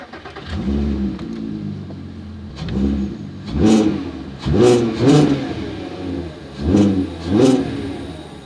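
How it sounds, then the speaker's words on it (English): A VW Golf MK5 R32 with its VR6 engine revs and accelerates in a series of rising, throaty bursts, about five pulls with brief lifts between them, loud and close, with no talking. "You came for the V6 or the VR6 or the shortened inline 6"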